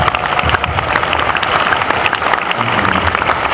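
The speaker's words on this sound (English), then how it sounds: "One more round of applause for them." An audience at an anime convention industry panel applauds loudly and continuously, a dense, close, even wash of clapping with a few faint cheers mixed in.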